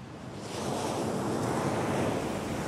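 Ocean waves wash steadily onto a beach in a broad, rushing roar that swells slightly after the first half second. Wind noise adds to it, and no voices are heard.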